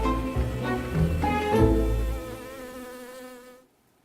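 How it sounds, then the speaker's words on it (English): A bee buzzing as it flies through the CERN complex, a close, wavering drone that swells and fades with its flight before cutting out abruptly near the end, heard alone. "So you've just been part of the first recorded flight of a bee through the CERN complex"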